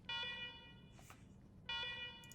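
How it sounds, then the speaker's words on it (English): An old security system alarm sounds in the video game Wasteland 3: two bursts of a harsh, buzzing electronic tone separated by a short gap with a faint noise between them. "sorry about these alarms. Something must have triggered the old security system."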